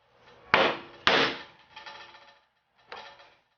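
Mallet blows drive a chisel into wood while chopping a mortise, with two sharp, close strikes, a softer scraping follow-up, then another solid hit after a pause.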